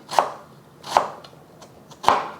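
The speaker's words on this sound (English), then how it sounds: "I'm just gonna slice up a thumb-sized piece of ginger." A knife slicing a thumb-sized piece of ginger into thin slivers on a cutting board, three sharp, close chops spaced unevenly apart with faint quiet between them.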